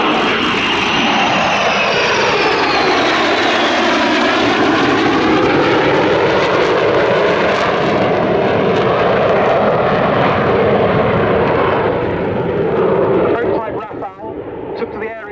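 A Dassault delta-winged jet fighter at the Yeovilton Air Day airshow thunders past, a loud, harsh engine roar whose pitch sweeps downward as it passes, then breaks up and fades toward the end.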